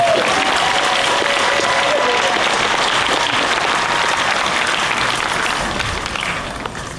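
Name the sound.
applause for volunteer community band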